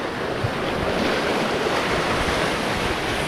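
Large waves on a lake, a continuous rushing wash of water mixed with heavy wind buffeting the microphone, loud and steady throughout with no voices.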